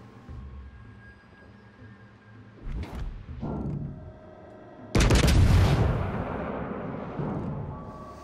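A tank's main gun fires in World of Tanks. There is a heavy boom partway through, a second powerful, roaring blast later on, and rumbling battle ambience under both.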